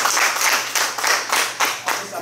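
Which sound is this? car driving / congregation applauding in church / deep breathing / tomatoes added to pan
congregation applauding in church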